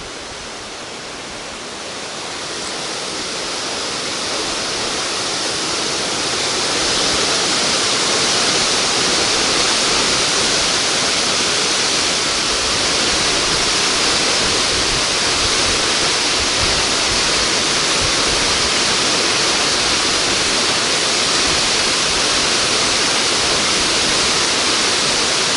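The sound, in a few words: waterfall beside the road near Valdez, Alaska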